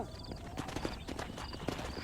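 Horse hooves clip-clop in Red Dead Redemption, a quick, faint, uneven patter of hoofbeats over a low background wash, with an occasional whinny-like tone.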